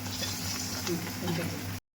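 Bread pakoras deep-frying in hot oil, a steady close sizzle and bubbling hiss with a low hum beneath, running unbroken before cutting off abruptly.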